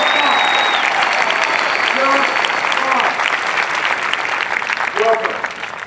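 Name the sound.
applause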